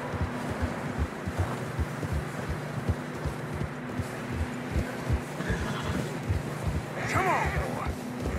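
Horses ridden through deep fresh snow in Red Dead Redemption 2, with steady muffled hoofbeats and tired snorting, a brief whinny near the end, all over wind noise and low game ambience.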